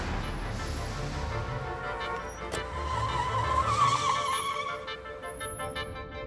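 Taxi cab driving along and accelerating, a steady engine and road rumble with a rising whine and faint tire squeal, moderately loud and without talk.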